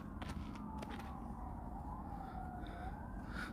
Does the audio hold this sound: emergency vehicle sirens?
yes